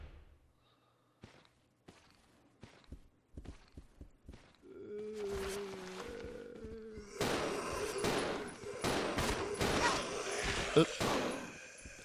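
Gunshots in the Resident Evil 0 video game: sharp isolated shots early, then denser bursts and thuds layered with game music and effects, while a player talks briefly.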